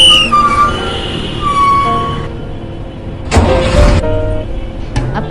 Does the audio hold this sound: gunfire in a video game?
no